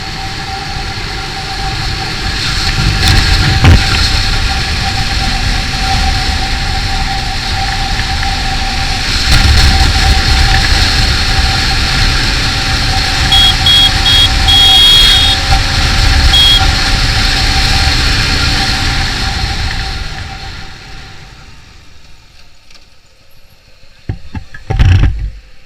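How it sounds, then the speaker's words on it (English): A motorcycle does a panic stop from 100 km/h: steady loud engine and wind roar for about twenty seconds that then fades away as the bike slows, with brief thumps near the end. "let's do a panic braking from 100 kmph"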